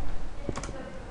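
Computer keyboard keys pressed for a copy shortcut while coding, a brief pair of soft clicks near the middle over a quiet background hum.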